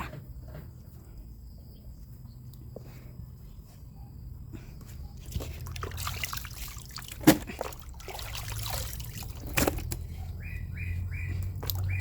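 Tap water runs into a container to soak wild yam, a faint, steady trickle at low volume with a few scattered knocks and clatters.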